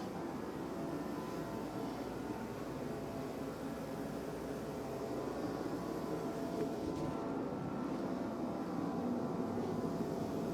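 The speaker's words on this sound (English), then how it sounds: "Turn the compressor on." An air compressor runs steadily in a car body workshop during a Nissan 370Z rebuild, a continuous broadband hum and hiss at moderate level with no voices.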